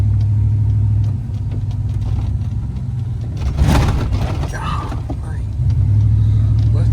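A truck with a 5.3 engine drives along, its steady low drone easing off midway through a bumpy rattling stretch before settling back to an even rumble.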